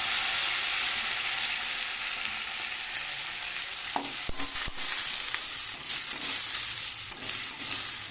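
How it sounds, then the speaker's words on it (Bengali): Dried red chillies and radhuni seeds tempering in hot oil for a hinche greens dish, a loud steady sizzle and hiss with a few sharp crackles and clicks as the pan is stirred, no talking. "এবারে দিয়ে দেবো রাঁধুনি আর শুকনো লঙ্কা ফোড়ন"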